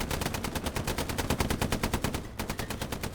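A US 76mm tank's weapons fire in a World War II-style video game escort event, a rapid, evenly spaced stream of loud close shots, about eight per second, running without a break and with no talking.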